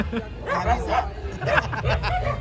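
Dogs bark in several bursts across the clip at a haldi ceremony, mixed with background voices and crowd chatter.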